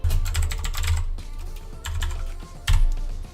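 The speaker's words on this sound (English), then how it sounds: "I'm typing in hello world and it's displaying" Typing on a computer keyboard while entering a short message into a running C# console program; quick bursts of close, clicky keystrokes with short pauses between words, no talking.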